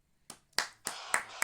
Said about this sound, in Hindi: जन तालियां बजा के।